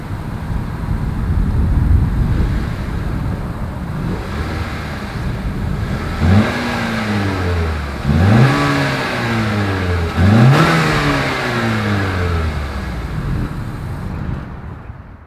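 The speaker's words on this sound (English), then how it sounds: "As always, here is that exhaust clip." A 2021 Honda Accord's exhaust rumbles at idle, then revs sharply three times in quick succession, each rise falling back to a loud, deep burble.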